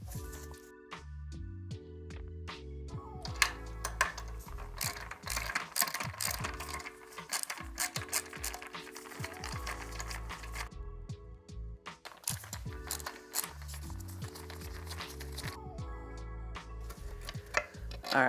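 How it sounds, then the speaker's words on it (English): Screws come out of a scooter fender to a rapid, continuous clicking of a ratcheting tool, with intermittent mechanical rattles and metallic ticks, close and fairly quiet throughout. "We'll remove the 4 screws on the side."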